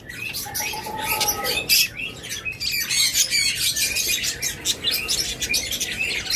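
Two matching caged pet birds at a seller's stall give rapid squawks and chirps, loud and near, in dense overlapping calls that run the whole time without pause.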